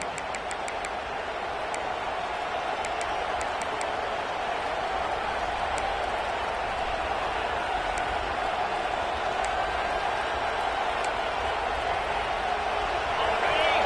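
Stadium crowd noise in College Football 26 during a South Carolina versus Iowa game, a steady dense roar of a large crowd holding level throughout, with faint whistle-like chirps above it.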